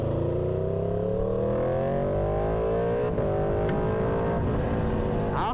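Car engine pulling hard toward 60 mph, its rising pitch climbing steadily through the revs in one long sweep, then settling and shifting, close and loud with no talk.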